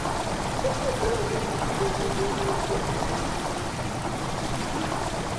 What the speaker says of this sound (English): The water rushing into the chamber makes a strange sound.